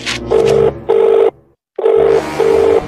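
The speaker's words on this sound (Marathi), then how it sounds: "आता फोन लावतो मी तिला." A ringing tone on a phone call placed during a Marathi comedy sketch: two pairs of steady electronic beeps, split by a short silent gap, clear and up close with no talk.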